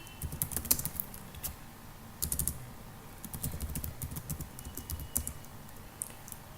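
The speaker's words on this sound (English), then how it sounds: "Let me just first type the code in." Code being typed on a computer keyboard during a live C++ programming session, a steady run of close, crisp key clicks in irregular bursts with short pauses, no talking.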